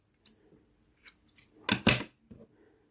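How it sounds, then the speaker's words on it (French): Scissors snip through crochet yarn while making a reindeer head, a few soft clicks followed by two louder close cuts in quick succession, then a faint final snip. "je vais couper une bonne longueur pour coudre après sur la tête"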